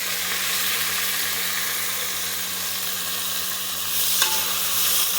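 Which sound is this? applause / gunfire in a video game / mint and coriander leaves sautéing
mint and coriander leaves sautéing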